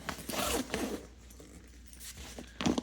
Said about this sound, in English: If you want to fully extend it, there is this zipper